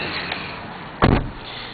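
Driver's door of a 2008 Ford F150 pickup truck, heard as a single short, solid clunk close by against a quiet background.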